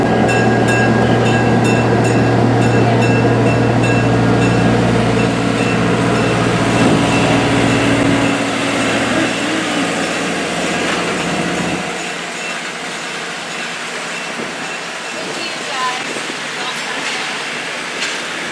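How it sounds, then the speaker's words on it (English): A steam locomotive pulls into Grand Junction station, its loud rumbling engine and rolling wagons filling the first twelve seconds with a low steady hum before fading to quieter clatter and ambient noise. "we then finally got to see the steam engine we were going to be riding the cab in as it pulled into the Grand Junction"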